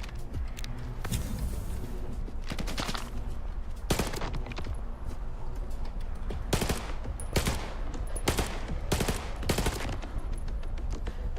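Rapid bursts of automatic gunfire and single shots crackle loudly in irregular clusters in the video game S.T.A.L.K.E.R. 2: Heart of Chornobyl, with a constant noisy background.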